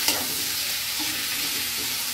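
Garlic, onion and ginger sautéing in a pan, a steady close sizzle with a spoon stirring through it, no voices.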